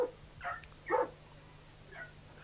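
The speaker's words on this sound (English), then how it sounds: "we found several dogs chained at the side of his house" Several dogs chained at the side of a house give a few short, sharp barks and yips, spaced apart over a quiet background with a steady low hum.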